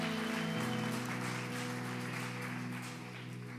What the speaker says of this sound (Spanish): dale fuerte el aplauso al Rey de Reyes